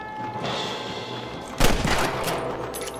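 Gunfire in the Red Dead Redemption video game bursts out as a sudden loud volley of shots and a heavy thump, cutting through a low background hum of game ambience.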